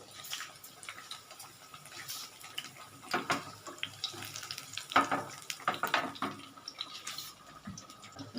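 Banana flower fritters frying slowly in a pan, a soft uneven crackle and bubbling with scattered clinks and wet splashy bursts, fairly quiet, no speech.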